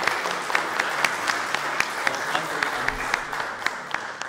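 An audience claps in a brisk, scattered round of applause, with individual claps standing out over a steady wash while a voice talks over it.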